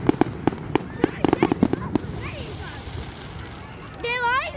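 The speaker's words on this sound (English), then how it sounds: "That's a lot of fireworks." Bonfire Night fireworks in Elgin pop and crack in a rapid irregular string of loud bursts, then a whistling rocket rises and wavers near the end, with people talking in the background.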